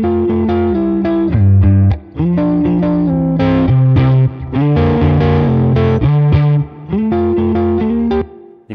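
Electric guitar run through a compressor into a Tone King Imperial MKII amp, playing sustained chords and melodic lines with an even, consistent level and slight grit, loud and continuous with brief gaps between phrases.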